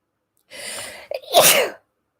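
A single close, loud sneeze with a breathy inhale before the sharp burst, then silence.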